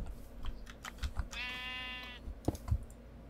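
A sheep in the Minecraft SevTech modpack gives one short, buzzy bleat amid steady keyboard typing and mouse clicks.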